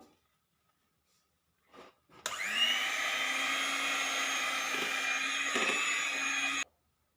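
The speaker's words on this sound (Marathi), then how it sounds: "हे यामध्ये मिक्स करूया तर हे फेटून घेऊया" A chocolate ice cream mixture being beaten with an electric whisk or hand blender, a steady high motor whine running for about four seconds after a couple of brief knocks, then cutting off abruptly.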